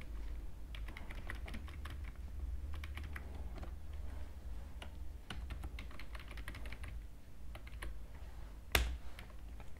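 Quiet, close computer keyboard typing runs steadily as code is entered, in quick clusters of soft key clicks over a low background hum, with one sharper knock near the end.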